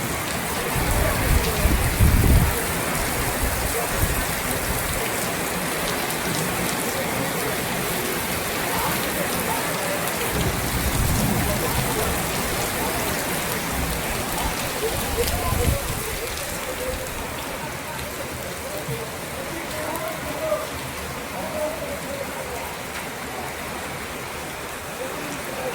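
Heavy rain pours steadily onto a rooftop, a dense, continuous hiss with occasional louder thuds and splashes, holding constant and close throughout without talk.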